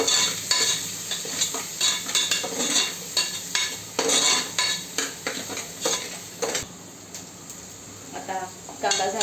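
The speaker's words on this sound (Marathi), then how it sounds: "आता याला फ्राय करून घेऊया, थोडंसं परतून घेऊया व्यवस्थित।" Chopped onions frying in a pressure cooker for a paneer biryani, with steady sizzling and repeated scraping strokes of a spoon against the metal pot, close and continuous throughout.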